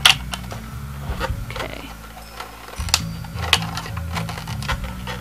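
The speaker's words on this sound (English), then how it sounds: "you just pop the sewing machine in here" Mechanical whirring and clicking of a small toy sewing machine, with a rattly low hum, sharp ticks, and a brief spoken word.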